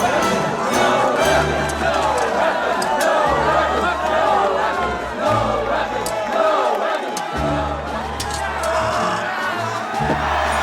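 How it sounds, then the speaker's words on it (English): A film crowd in Street Fighter: The Movie chants in unison, the massed voices loud and steady throughout with rising whoops and a low rhythmic thumping beneath. "They literally chant no weapons."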